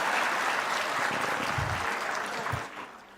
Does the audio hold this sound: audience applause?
yes